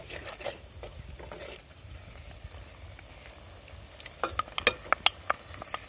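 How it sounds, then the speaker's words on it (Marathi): Prawns tossed into a village-style biryani pot with curd, starting with a low steady sizzle, then a burst of sharp crackling pops and spatters as they hit the hot oil. "आणि आता कोलंबी टाकू"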